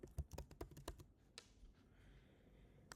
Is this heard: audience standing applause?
no